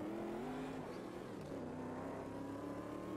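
Corvette C3 engine in Automobilista 2 holding a loud, steady V8 drone with slight pitch shifts, continuous and close with no talk over it.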